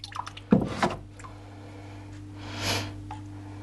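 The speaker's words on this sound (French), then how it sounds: "Et là, je vais asperger en faisant tourner." Slip sprayed onto a rotating pottery piece, with a couple of short hissing spray bursts, a closer one near the start and a softer, longer one later, over a quiet low hum.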